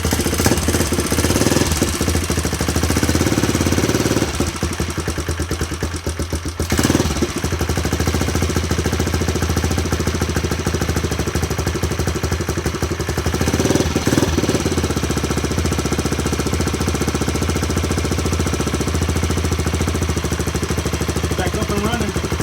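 A dirt bike engine that had sat for months runs steadily after being started, a loud, rough, rapid rattling putter held throughout with a couple of brief dips and revs, close to the microphone.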